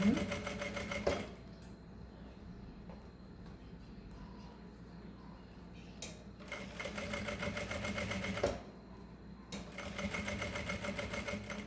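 A sewing machine runs a backstitch on mesh fabric for a fanny pack in a few bursts of rapid stitching, separated by quieter stretches with soft handling noises and light talk.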